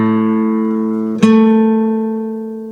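Two sustained instrument-like tones with rich, even harmonics: the first note rings alone, then a sharp onset brings the same note an octave higher, which rings on and slowly fades.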